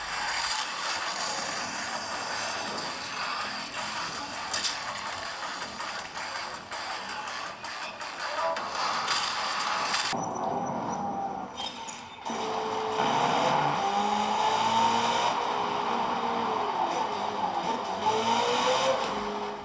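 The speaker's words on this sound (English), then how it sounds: "How about you guys just take a listen to the fan itself?" A gaming laptop's cooling fan, an MSI Prestige 16 with Intel Core Ultra, hums steadily with broadband hiss throughout, shifting in tone partway through as a higher whine and tonal drone emerge.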